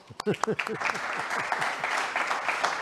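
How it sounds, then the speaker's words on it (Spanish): An audience at a conference breaks into steady applause, a dense wash of clapping that continues evenly, with a few voices briefly speaking at the start. "Un aplauso."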